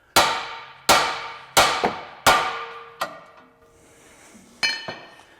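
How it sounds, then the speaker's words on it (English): A hammer strikes a ball joint on a 2017-25 Honda Ridgeline to knock it loose: about six sharp metallic clangs in a quick, steady rhythm, loud and close, each ringing briefly. "We're gonna have to hit this with a hammer to get it off."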